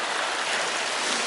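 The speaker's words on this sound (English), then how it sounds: "This is the second little stream I've come across." A small mountain stream high on a climbing trail near a snowy saddle rushes steadily, a close, even broadband wash of flowing water with no voices.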